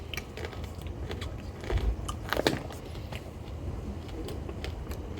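Someone bites and chews an old, still-crunchy snack close to the mic, giving a quiet series of irregular crackling crunches with a few sharper bites in the middle.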